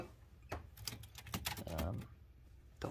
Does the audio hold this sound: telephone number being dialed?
no